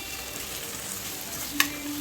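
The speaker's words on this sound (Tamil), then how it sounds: "இப்போ நம்ம பொடியாக நறுக்கின உருளைக்கிழங்கு சேர்த்துடலாம். பெரிய உருளைக்கிழங்கு 2 எடுத்துருக்கோம். இது நல்லா ஃப்ரை ஆகட்டும்" Steady, soft sizzling of finely chopped potatoes frying in a pan, with a brief clink near the end.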